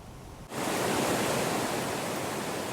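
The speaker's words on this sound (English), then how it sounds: "the lower Baker Dam lets out gallons and gallons of water" Water rushing out of the Lower Baker Dam near Lake Shannon Road, a loud, steady broadband roar that starts abruptly half a second in and holds unbroken to the end.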